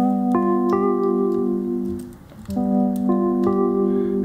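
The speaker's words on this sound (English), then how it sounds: "That sound is already muffled because it's a felt piano" A felt piano run through a low pass filter effect pedal plays soft, muffled sustained chords, struck twice with a short gap between, dark and rounded with the high end removed, heard alone at moderate level.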